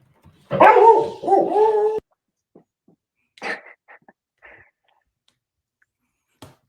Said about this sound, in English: dog is very excited